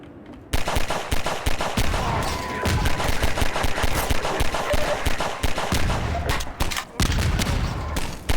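Barrels hurled like grenades in a video game burst into a dense, continuous barrage of loud explosions and gunfire-like blasts, sustained almost without pause after a brief quiet start.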